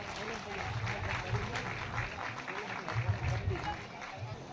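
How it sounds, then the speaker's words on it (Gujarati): At a hostel event in Mandvi, an audience claps for student performers, a dense, steady patter of applause with voices murmuring underneath, heard fairly softly. "તો જોરદાર તાળીઓ થઈ જાય વિદ્યાર્થીઓ માટે"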